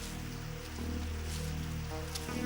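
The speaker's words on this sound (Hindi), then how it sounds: "तुम जानते हो मुझे बारिश पसंद नहीं।" Steady, dense rain from a storm in a cartoon hisses evenly throughout without pause, a continuous wash of falling water.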